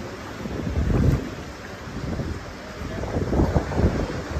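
Cold wind gusting across an open beach with waves rolling in, a steady roar buffeting the microphone and rising and falling in surges.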